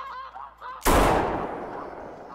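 A single loud, close shotgun blast fired at a goose in the hunting game theHunter Classic, bursting suddenly after a quiet spell and then decaying into a long echoing tail.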